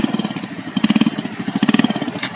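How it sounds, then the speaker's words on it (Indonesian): A motorcycle engine, rigged with a wifi-controlled security cutoff, starts and runs close by with a loud, rapid, pulsing putter that surges twice. "Kita matikan keamanan dan motor dapat hidup kembali"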